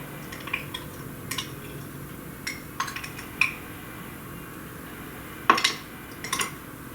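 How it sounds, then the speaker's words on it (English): A whisk stirs premixed moisturizer and perfume in a container, giving sparse light clinks and taps against the vessel over a faint background hum, with small isolated knocks and one sharper clatter near the end. "just stir it in with the whisk"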